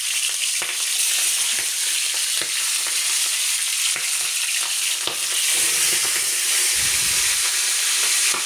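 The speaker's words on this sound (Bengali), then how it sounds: "আমি সবগুলো রুই মাছ এভাবে ভেজে উঠে নেব, ভালো করে লাল লাল করে ভেজে নেব।" Rohu fish pieces frying in hot oil: a loud, continuous crackling sizzle with scattered pops and a few brief knocks of a utensil, close and steady throughout, no speech.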